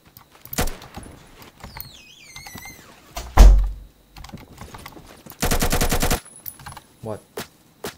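Bursts of AK105 rifle automatic fire from the Phantom Forces shooter game, with 5.56 conversion and compensator, including one dense sustained rattle near the end, scattered shorter shots and clicks, and a voice speaking intermittently.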